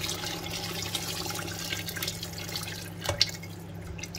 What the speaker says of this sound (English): I'm adding my meat water.